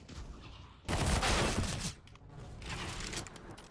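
Gunfire from CS:GO online match play, a burst of rapid shots with a dense loud cluster early, then a second quieter stretch of firing, no speech.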